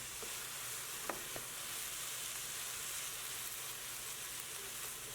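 One pound of ground beef sizzling steadily in a pan with onions and bell peppers, a continuous soft frying hiss with a couple of brief utensil clicks near the start, no talking.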